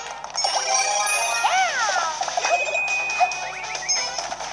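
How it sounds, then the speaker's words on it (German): Bright tinkling chimes and dings from the Super Mario 3D World video game ring out with a bell-like sparkle over a steady bed of game sound. "Eine Glocke zur Sicherheit."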